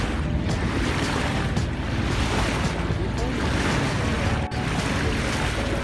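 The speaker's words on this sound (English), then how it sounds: "So we are just motor sailing right now and hoping for some wind." A sailboat motor sailing near Toronto on a calm, windless day: a constant rushing wash of water and hull noise with a low engine drone beneath, steady and fairly loud throughout.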